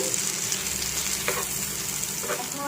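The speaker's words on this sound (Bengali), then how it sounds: "এবার আমি এর মধ্যে প্রথমে দিয়ে দেবো কুচি করা পেঁয়াজ" Finely chopped onion fries in melted butter, a steady, close sizzle joined by occasional scrapes of stirring, with no one talking.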